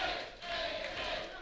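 A wrestling arena crowd at an NWA Wildside show cheers and roars in a steady, dense wash, with a brief dip before swelling again.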